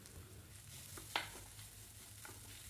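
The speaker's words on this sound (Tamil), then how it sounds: "கூடவே தேங்காய் துருவல் சேர்த்து அதையுமே நல்லா வறுத்துடுங்க." Grated coconut and cashews roasting in ghee give a soft, steady sizzle with a single sharp spoon knock partway through. No one speaks.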